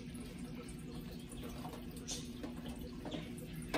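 Steady running water from a turtle tank's filtration system, a continuous low wash with faint trickles and drips, close and fairly quiet throughout.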